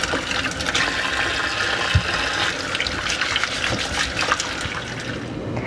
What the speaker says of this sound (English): Rinse them and then just transfer them over to a towel